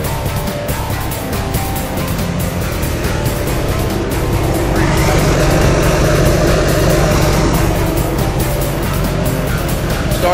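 A Caterpillar diesel engine running on an HHO setup drones loud and steady for the whole stretch, with a dense rumbling roar and a rise in higher-pitched noise partway through.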